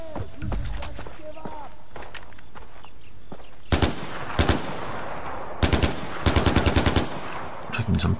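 Machine-gun turret fire in the video game Far Cry 4, with several loud rapid bursts in the second half after a stretch of quieter footsteps and movement, while a person talks.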